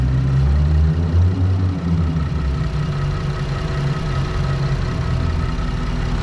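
A 2018 Ford Explorer Sport 4X4 engine idles steadily, a smooth, even low rumble held close and continuous throughout with no revving.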